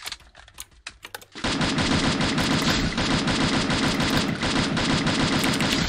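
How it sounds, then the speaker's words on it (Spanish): Rapid automatic gunfire in a video game erupts after a few scattered shots, a dense continuous loud burst of firing that runs steadily to the end with no talk. "empezaron a disparar y se pudrió todo"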